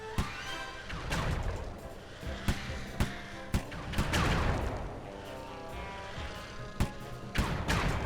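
Turret gunfire in the Sly 3 video game, a burst of sharp, booming shots and crashes at irregular intervals, loud and close with game noise between.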